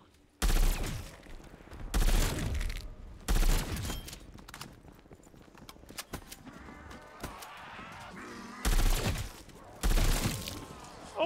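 A pack-a-punched MP5 fires in Call of Duty Cold War Zombies, with loud short bursts repeating every couple of seconds and quieter game noise in between.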